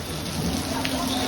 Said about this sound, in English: And when it rains in Fisherman's Village, it rains.